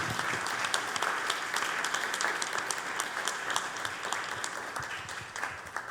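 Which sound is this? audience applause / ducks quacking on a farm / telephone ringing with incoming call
audience applause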